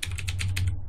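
Keystrokes on a computer keyboard while entering column names into a spreadsheet formula, about six clicks in a steady quick rhythm over a low background hum, close and clear with no talking.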